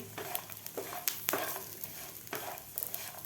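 Garlic chutney ingredients frying in hot oil while being stirred, a steady close sizzle broken by irregular scraping and clattering strokes of the spoon.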